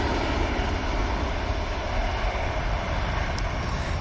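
A jet airliner rotating on take-off at Manchester Airport produces a continuous dense engine roar, loud and even across the short stretch, with no speech.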